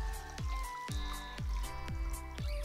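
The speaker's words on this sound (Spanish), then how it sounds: "Agregamos el agua." Water is poured into a slow cooker holding goat meat for birria, giving a run of wet drips and splashes at a fairly even, unhurried rhythm, close by with no talking.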